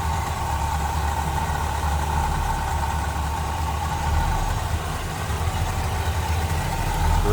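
A 1965 Chevrolet Impala SS two-door hardtop with a 327 V8 idles steadily up close, a smooth, even low rumble that holds without change for several seconds, with no voices over it.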